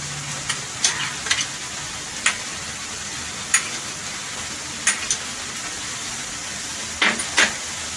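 Chopped capsicum stir-fried with half-cooked chicken mince in a pan, a steady close sizzle with scattered sharp clicks and taps of a spatula against the pan, no voices.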